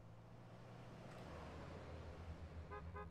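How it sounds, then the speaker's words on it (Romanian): Car horns toot briefly in GTA San Andreas, two short honks near the end over steady engine and traffic drone on a city street. "Ce mă claxonați, bă?"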